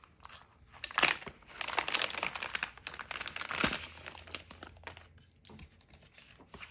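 Plastic packaging of a sticker subscription pack crinkles and crumples steadily as it is pulled open, loud close rustling bursts with brief pauses and tearing texture throughout.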